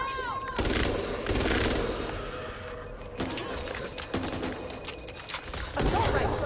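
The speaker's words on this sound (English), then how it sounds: "Assault rifle." Assault rifle gunfire in the zombie shooter Back 4 Blood on PS5: dense, loud bursts of automatic fire cracking nearly continuously, with game effects and faint voices mixed underneath.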